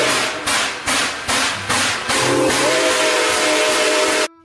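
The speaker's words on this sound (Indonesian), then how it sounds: "Kereta uap." Toy steam train whistle sounding in a run of short repeated hoots, then a longer sustained tone near the end, loud and close over a busy toy-play background.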